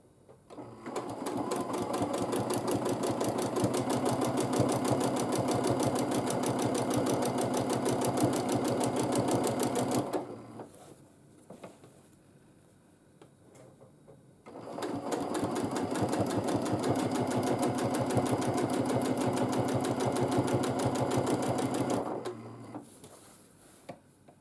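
A sewing machine runs fast and steady during free motion quilting of half-square-triangle blocks, two long stretches of rapid even stitching about ten and eight seconds long, separated by a quiet pause.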